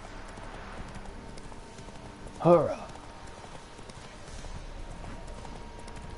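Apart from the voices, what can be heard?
horse hooves galloping in video game The Witcher 3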